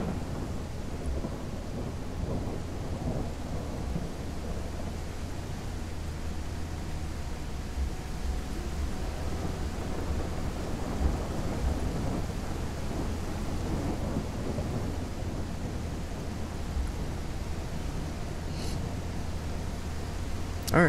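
A thunderstorm hisses with steady heavy rain and low rumbling thunder throughout, dense and continuous, with only faint scattered sounds on top.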